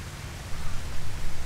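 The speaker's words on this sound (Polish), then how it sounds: "Nawet wody słychać cały czas." Water flows steadily through sewers in the video game Enter The Matrix, a continuous broadband rushing wash, brief and fairly loud.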